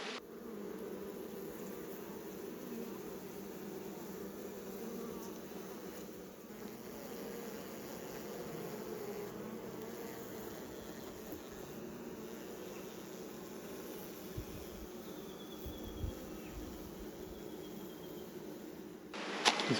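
Dense, steady drone of many honeybees swarming inside a rescue hive, a continuous close buzz holding for the whole stretch with a few louder bumps near the end.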